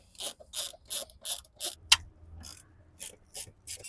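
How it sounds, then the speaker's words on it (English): Repeated ratcheting clicks from a ratchet driving a T50 Torx bit to remove front seat bolts while installing a fire extinguisher mount in a Triton MV: about ten short bursts in a steady rhythm, up close, with no talk. "So with your T50 Torx bit and your ratchet, just remove those two front seat bolts."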